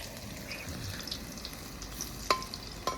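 Chicken for chili chicken fries gently in moderately heated oil outdoors at a picnic, a soft, low sizzle with a couple of sharp clinks from a utensil against the pan.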